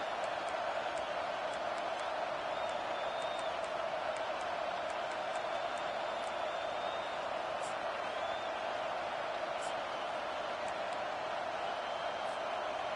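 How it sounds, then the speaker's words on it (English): A home stadium crowd in an NCAA football video game roars in a steady, dense wash of cheering with faint whistles scattered through it, distant and sustained, with no distinct voices on top. "how nice is it to have the home crowd going absolutely bananas?"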